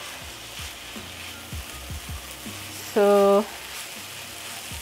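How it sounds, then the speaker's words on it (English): Cabbage sautés in a pan over a low flame, giving a soft, steady sizzle with faint clicks. A brief electronic beep sounds partway through, and a voice says a single short word. "At this point I'm using low flame to saute my cabbage."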